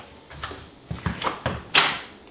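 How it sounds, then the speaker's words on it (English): A passenger vehicle door is worked shut in a short series of knocks and thuds at close range, ending in one sharper, louder slam. "This is how you close a door."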